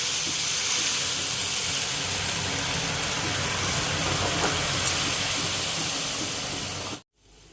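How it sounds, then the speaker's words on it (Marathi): Boiling water is poured onto roasted vermicelli in a pan over a lowered gas flame, giving a steady, loud hissing rush for about seven seconds before it cuts off abruptly. "हे पाणी टाकून घ्यायचं"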